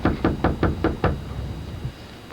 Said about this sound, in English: They're going door to door, knocking on doors.